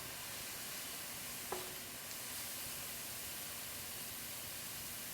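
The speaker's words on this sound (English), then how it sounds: "Just sweating these down. I'm on high heat right now." Vegetables sweat in a wok over high heat, giving a steady, even sizzle throughout with a single faint clink partway through; no one talks.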